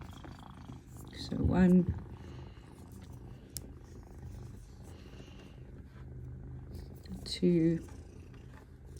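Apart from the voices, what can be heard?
cat purring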